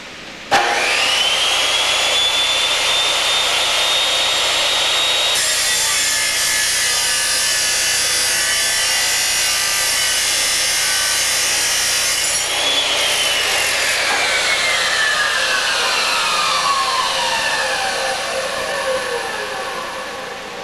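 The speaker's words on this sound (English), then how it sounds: "pull the trigger, let the saw come to full maximum power, and then slowly, not jerking or not suddenly, push the saw down through our workpiece" A chop saw spins up to full speed, then grinds slowly down through a steel workpiece. The loud abrasive cutting holds steady for most of the clip before the blade winds down near the end, with no talking.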